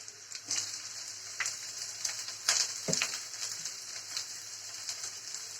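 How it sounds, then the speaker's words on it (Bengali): Minced garlic and chopped green chili crackle in hot oil, a faint, steady sizzle with a few sharp pops and clicks. "তেলটা আমার গরম হয়ে গিয়েছে, দিয়ে দিচ্ছি রসুন কুচি, দিয়ে দিচ্ছি কাঁচামরিচ কুচি"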